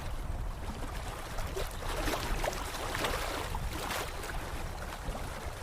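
Continuous low rumble with washing, splashing water, like a boat moving across water, steady throughout with no talking.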